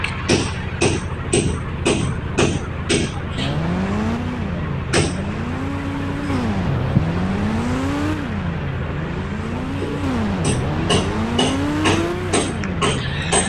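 Motorbike in the GTA video game revving and riding, its engine pitch sweeping up and down in repeated waves with sharp clicks at the start and end, steady and loud with no talking.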